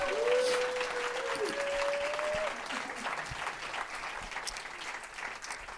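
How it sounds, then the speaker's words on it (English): A round of applause from an audience at a talk, a steady wash of clapping lasting several seconds and gradually thinning, with a whistle-like tone briefly at the start. "everyone give Caleb a little round of applause."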